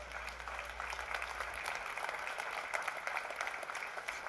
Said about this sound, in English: Get a clap.